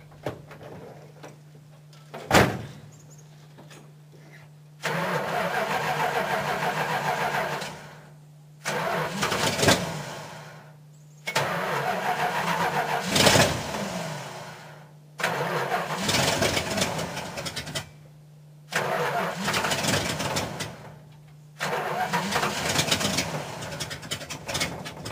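Truck engine running on wood gas, cranked and started repeatedly: several bursts of starter grinding and engine roar broken by short pauses, each settling into a rough idle, loud and close, with a steady low hum underneath.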